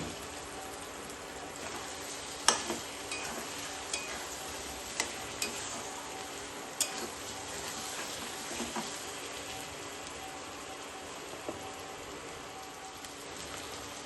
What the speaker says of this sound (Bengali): এবার আমি ভিজে রাখা আলুগুলো দিয়ে দেবো আলুগুলো দিয়ে মশলার সাথে একটু কষিয়ে নেব